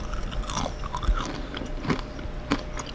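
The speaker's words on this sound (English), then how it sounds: "I don't know if you can hear me chewing" Crispy pepperoni chips crunched up close, with irregular sharp bites and chewing crackles over a quiet background.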